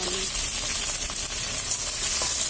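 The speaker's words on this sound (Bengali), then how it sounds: "এই ডালটা কড়াইতে দিয়ে এখন রান্না করবো" Boiled chana dal cooking in a wok gives a steady, loud sizzle and frying hiss throughout, with soft stirring scrapes and no talk over it.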